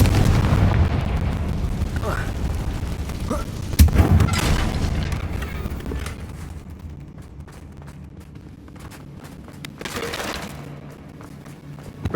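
A Confringo blasting curse explodes in Hogwarts Legacy, with booming bursts around the middle of the clip over a steady rumble of game noise and some voices.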